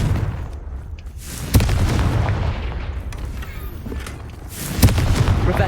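A Confringo fire spell blast in Hogwarts Legacy, a couple of sharp booming bursts over a steady rumble of game ambience.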